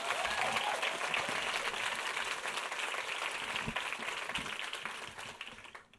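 A university event audience applauds a speaker with dense, even clapping that holds steady, then thins and fades away near the end.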